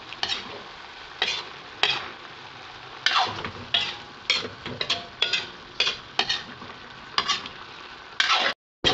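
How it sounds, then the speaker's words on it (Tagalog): Pork liver being stirred into menudo in a pan: repeated scraping strokes of a utensil over a steady sizzle, each stroke a sharp burst, close and fairly loud, with no talking. "atay na mix pa rin natin guys"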